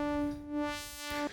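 A DSI/Oberheim OB-6 synthesizer holds one sustained tone through its bandpass filter, giving a thin, nasal timbre with the lows and highs cut away, fairly quiet and stopping abruptly near the end.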